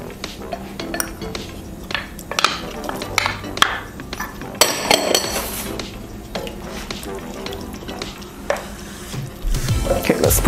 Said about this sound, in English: Now I'm gonna add my carrots.